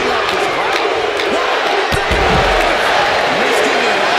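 A wrestling arena crowd in the WWE 2K25 video game roars steadily, with booming impacts and a commentator talking over the noise.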